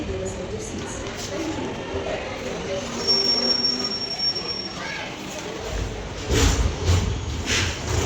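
The Aurangabad Express pulls out of Kurnool station with a steady rolling rumble and a thin, high wheel squeal, the noise swelling toward the end, while people talk in the carriage.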